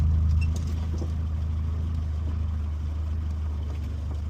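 A Morris Minor engine with an engine bay ticking fault runs under load on a test drive, a steady low drone with road noise. Any faint tick is buried in the rumble.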